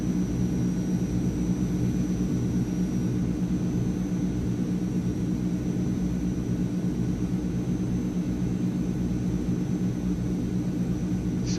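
The engines of a Transall C160 cargo plane in Microsoft Flight Simulator drone steadily from inside the cabin, a loud, unbroken low roar with a faint high whine.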